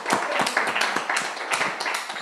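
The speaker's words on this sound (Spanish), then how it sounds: "Nos aplaudimos todos" A group of participants at the end of a mental health session on suicide prevention claps together, a brief, close burst of dense hand clapping lasting a couple of seconds with no talk over it.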